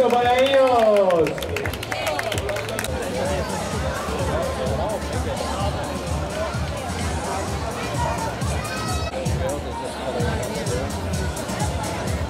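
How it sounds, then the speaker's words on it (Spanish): Audience applauding at a children's urban cross-country race: steady, sustained clapping with crowd chatter, after a brief voice at the start. "Fuerte aplauso para ellos."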